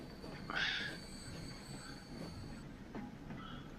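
Trams rumble along their tracks in the game Transport Fever, a steady low running noise with a brief wheel squeal near the start and faint clicks, moderately quiet.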